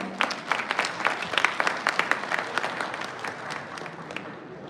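Audience applause at an engineering college's Global Alumni Meet, a sustained round of crowd clapping with scattered sharper claps that gradually fades toward the end.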